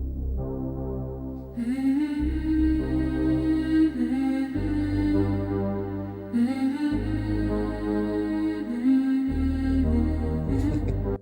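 A looping musical passage with sustained tonal chords and a deep bass that shifts every couple of seconds, playing continuously without vocals.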